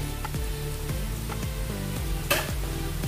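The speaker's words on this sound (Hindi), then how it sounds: "अच्छे से मिक्स कर लेंगे" Sabudana khichdi with Kashmiri chili powder and fried peanuts being stirred in a pan: repeated scraping strokes of a spoon against the pan over a steady low sizzle, with no talking.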